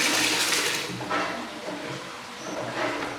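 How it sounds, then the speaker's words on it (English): Heated water splashes and gushes in several surges as two liters are poured into a container for making soap with lye, close by, with no voices. "Then I add the 2 liters of heated water and the 500 grams of soda."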